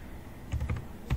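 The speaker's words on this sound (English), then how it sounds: "So here if I just type GCC" A computer keyboard is tapped in a short burst of four or five quick, close keystrokes, typing a command at a command prompt, with no voices.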